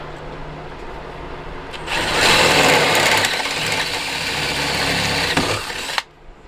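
A power drill boring a hole for a running board on a 2024 Sprinter van whirs steadily for about four seconds, a loud continuous motorized drone that starts abruptly and cuts off sharply, with quiet outdoor ambience around it.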